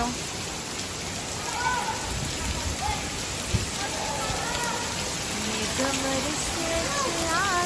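Steady heavy rain pattering on surfaces, with scattered voices chattering faintly in the background.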